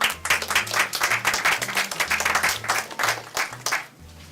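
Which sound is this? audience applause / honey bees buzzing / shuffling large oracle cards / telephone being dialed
audience applause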